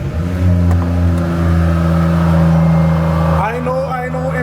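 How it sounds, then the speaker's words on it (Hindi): A Range Rover Sport SV engine cold start sounds loud and close, a steady deep rumbling idle with a strong low drone, then a sharp rev that rises and falls near the end. "एक कोल्ड स्टार्ट सुना देते हैं"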